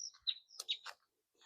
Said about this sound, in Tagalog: Naririnig nyo, friends, yung ibon.